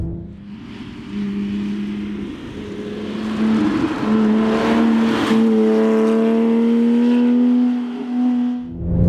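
A Porsche 911 997.1 GT3 with a 3.6-litre Mezger flat-six engine laps a race track, its loud, steady engine note rising and holding under throttle, heard from inside the car.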